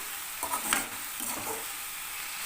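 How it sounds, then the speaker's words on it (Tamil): Drumstick leaves sautéing in a pan for chutney, a quiet continuous sizzle broken by a few soft scraping stir strokes early on, with no voices. "கொஞ்சம் நல்லா வதங்கட்டும் அது வரைக்கும் வதக்குங்க"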